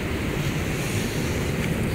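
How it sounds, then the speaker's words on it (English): Big Pacific Ocean waves surging onto the shore at Noosa North Shore, Australia, a steady broadband roar of surf with wind buffeting the microphone throughout, no voices. "the ocean is very wavy, big waves."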